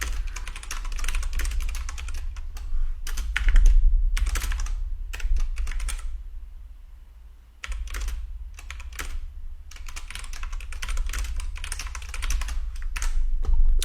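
Computer keyboard typing while writing code comments, with bursts of fast, close, crisp key taps separated by brief pauses over a low steady hum.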